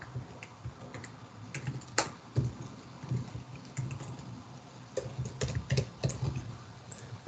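Typing on a computer keyboard at a desk, quiet irregular clicks and clacks in short bursts with brief pauses, close and fairly soft over low room hum.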